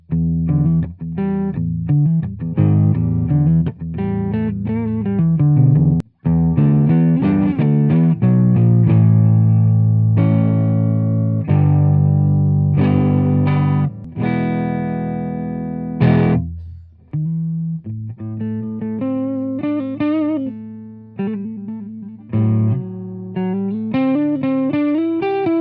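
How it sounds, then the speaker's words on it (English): An Epiphone Firebird V electric guitar played through its neck pickup on a clean channel, strummed chords and picked single notes ringing with sustain, one brief break, then a rhythmic picked passage. "let's go ahead and hear that neck pickup in the cleans"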